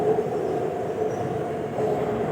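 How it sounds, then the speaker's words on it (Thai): A metro train on the line to Khlong Toei pulls into the station, a steady rumbling hum of wheels and motors with faint rail clatter, close and continuous, with no talk. "รอรถไฟไปคลองเตยนะคะ"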